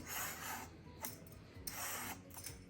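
Thin skin is peeled from an ash gourd in soft, rasping scraping strokes, repeating in a few close, quiet passes with short gaps between them.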